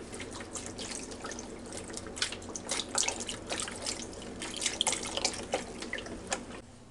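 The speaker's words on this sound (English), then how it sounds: "Then we're going to cover it with water. That's all you put in there. Or beef broth. Today I'm going to use beef broth." Beef broth is poured over a corned beef brisket in a pot, giving a soft, close trickling and splashing of liquid with irregular drips, fairly quiet and with no voices.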